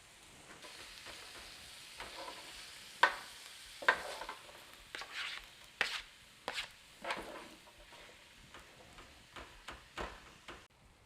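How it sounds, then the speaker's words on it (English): Green peppers and onions cooking in a pan, a low steady sizzle punctuated by sharp utensil clicks and scrapes at irregular intervals, close and without talk. "Drop in the green peppers and drop in the onions and get that all cooked up."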